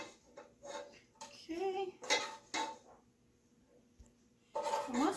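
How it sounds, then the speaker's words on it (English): A metal spoon scraping rendered bacon out of a cooking pot, heard as a few separate clinking and scraping bursts with quiet pauses between them. A voice briefly speaks once. "Let's get all that bacon out of there. Let me get a spoon because I think that'll work a little bit better."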